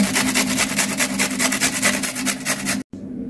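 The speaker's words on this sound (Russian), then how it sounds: "на терке натираем редисочку" A radish rubbed on a hand grater gives close, rhythmic rasping strokes in a steady run that stops abruptly.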